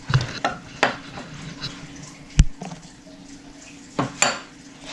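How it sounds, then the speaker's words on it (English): A spoon clinks and scrapes against a bowl as cornstarch is worked into an edible marshmallow slime mixture, giving scattered sharp knocks and soft stirring sounds, close and fairly loud. "So now you're gonna want to add cornstarch."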